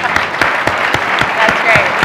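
Applause from the audience at a book launch event, a steady patter of clapping with some distinct sharper claps, close and fairly loud, filling the short moment with no speech over it.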